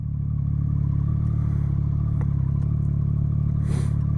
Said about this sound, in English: and now first, engine braking is a lot more.